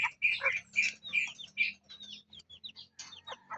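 A Black Australorp chicken gives a run of close, loud squawks and clucks with sharp chirping calls. No talking is heard.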